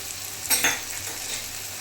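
Mutton and chopped fat frying in a pan with salt, turmeric and Kashmiri red chilli powder, a soft steady sizzle broken by a brief scraping stir midway.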